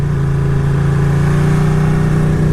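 A Ducati Panigale 959 Corse engine drones loud and steady while the bike is ridden, a continuous close mid-pitched hum with a slight rasp and no gear changes.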